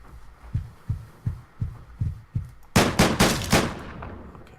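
Tommy gun bursts from the game Deadbolt: a row of evenly spaced low thumps, then a loud, bright cluster of rapid shots up close near the end.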